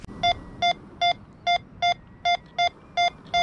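A Minelab Go Find 66 metal detector sounds a target on a UK beach: nine short, evenly spaced electronic beeps ring out clearly, repeating steadily over faint background noise.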